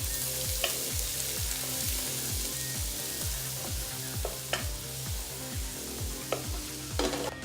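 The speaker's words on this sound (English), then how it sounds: "you're sauteing the onion down and softening it" Onion sautéing in a little oil in a hot pan, a soft continuous sizzle broken by a steady, rhythmic scrape of stirring, with a few sharper clicks near the end.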